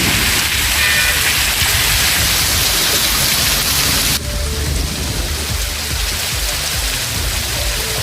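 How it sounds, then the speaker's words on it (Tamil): Heavy rain pours down steadily in Tirunelveli district, loud and dense, a continuous hiss and patter with no pauses. The sound shifts abruptly partway through, without speech. "திருநெல்வேலி மாவட்டத்திலும் பரவலாக பெய்த கனமழையால் தாழ்வான பகுதிகளில் மழைநீர் தேங்கியது."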